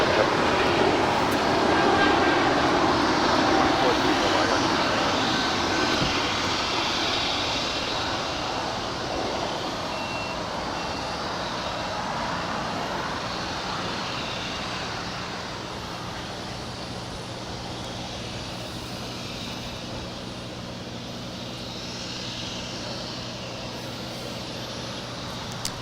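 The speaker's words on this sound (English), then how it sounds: "That was Air Canada Flight 782 on our way to Montreal. It's an Airbus A220-300. Just saw it depart here." An Air Canada Airbus A220-300 departs Los Angeles International Airport, its broad jet roar loudest at the start and slowly fading into a distant rumble over about twenty-five seconds.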